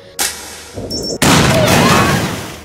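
A sudden loud anime explosion boom bursts in after a brief electronic beep, followed by a sustained roaring rumble of blast and rushing debris.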